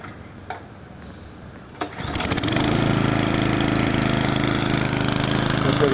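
A lawn dethatching machine, raised slightly because of gravel in the ground, starts with a bang and then runs with a loud, steady engine drone, with faint outdoor noise before it starts.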